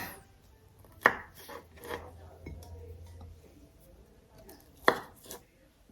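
Cooked potatoes are sliced in half on a cutting board: two sharp, close knife thuds a few seconds apart, with softer handling sounds and a faint low hum between them.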